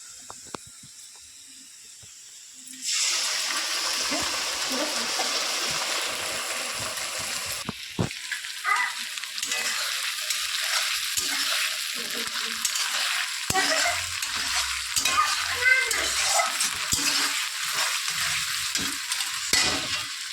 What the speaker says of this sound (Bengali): লাল লাল করে আমি এটাকে মশলাটাকে একটু ভাজিয়ে নেবো